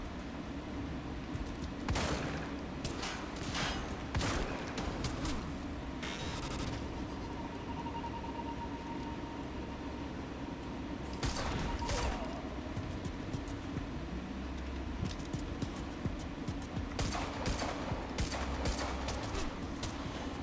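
Gunfire in the action game Quantum Break, with bursts of automatic shots coming in scattered clusters over a constant rumbling background and quieter stretches between volleys.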